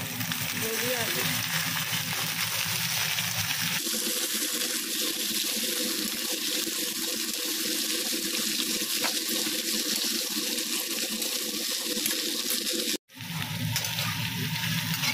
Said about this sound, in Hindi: तो प्याज को हम आधा ही भुनेंगे और अब हम डाल देंगे गोभी आलू।